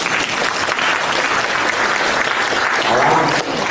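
A gathered audience at a dharma assembly in Aarhus, Denmark, claps loudly and steadily. The sustained applause from many hands stays at an even level throughout, with faint murmurs underneath.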